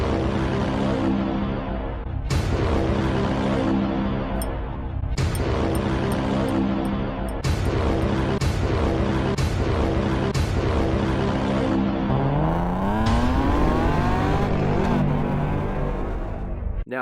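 A BMW E39 M5 with a Supersprint exhaust and muffler delete drives hard, its engine revving up in repeated pulls, with rising pitch sweeps through gear changes and a loud, steady exhaust note throughout.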